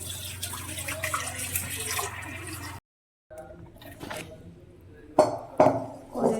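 A kadai is washed with water, with running and splashing water, then a short silent break, then sharp metallic clinks and pings of the pan close by.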